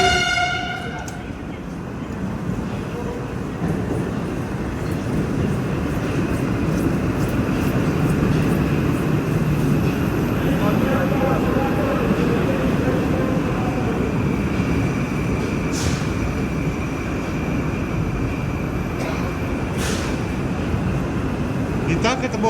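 A Moscow metro train on the Nekrasovskaya line runs with a steady, loud rumble and rolling rail noise, sustained throughout with brief higher squeals and tonal whines near the start, heard from inside the carriage.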